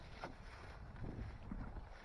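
Wind buffeting the microphone at a roadside camp in Mark Twain National Forest, a low, steady rumble with gusty swells, loud and close.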